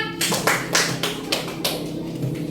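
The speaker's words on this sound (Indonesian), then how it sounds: "Tepuk tangan juga untuk kelompok kedua." Short burst of clapping by children in a first-grade classroom, a handful of uneven claps at moderate distance, quick and light, fading out within a couple of seconds.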